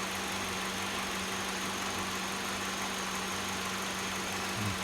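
A Peugeot VTi engine with inlet camshaft reference and oil pressure fault codes runs at a steady idle, a continuous low hum and drone held close and even throughout.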